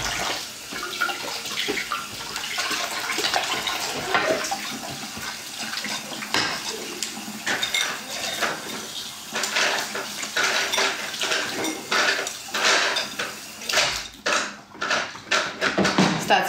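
Dishes washed by hand under cold running water from a tap: a steady stream splashing into a sink with repeated clinks and clatters of plates and cutlery close by.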